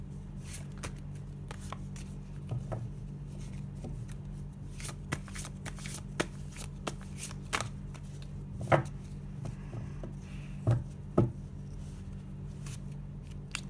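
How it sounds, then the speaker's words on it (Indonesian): Tarot cards are shuffled by hand close up, a rapid run of crisp riffling flicks and soft slaps with a few sharper snaps toward the end, no talking. "kita akan buka satu kartu lagi buat solution"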